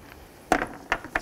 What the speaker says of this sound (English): Use a 13 millimeter and remove these four nuts.